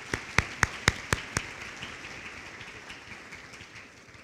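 A short burst of clapping from an audience at a high school awards ceremony, a few sharp claps at the start settling into scattered, softer applause that fades away.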